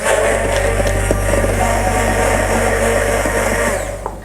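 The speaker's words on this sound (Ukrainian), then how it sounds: "І так, збиваємо. Додати ще щіпку солі і далі збивати." An electric blender whisks homemade mayonnaise with a pinch of salt, giving a loud, steady whirring motor drone with a constant low hum, close and continuous throughout, without talk.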